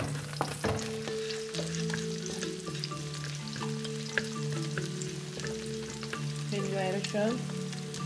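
Garlic fried rice cooking in oil left over from frying beef tapa, a close continuous sizzle with stirring scrapes and a couple of sharp clanks, plus faint tonal background hum, no talking.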